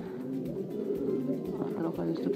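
Young pigeons just pushed out of their nests coo softly inside a loft, a low murmuring burble that continues under someone talking nearby.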